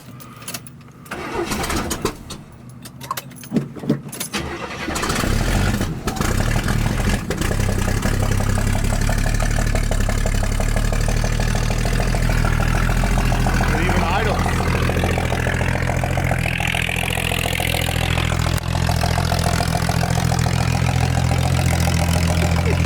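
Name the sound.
1971 Chevy Chevelle Malibu engine idling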